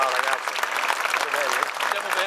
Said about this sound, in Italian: per favore, un grande applauso a Walter Ganapini